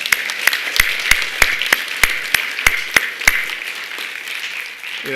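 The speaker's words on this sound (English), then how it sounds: "I think you should give yourselves all a round of applause right now" A room full of people at an elementary school spelling bee applauds, with a few loud, distinct claps up front over the steady clapping, which fades toward the end.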